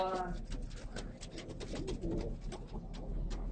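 Domestic pigeons coo in low, throaty repeated calls close by, with scattered flutters and clicks over a steady low hum, with faint voices in the background.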